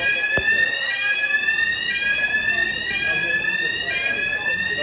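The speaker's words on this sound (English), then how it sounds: "it's the fire alarm." A fire alarm sounds at a holiday resort on the Jurassic Coast with a loud, continuous, high-pitched electronic tone, pulsing slightly, and a sharp click near the start.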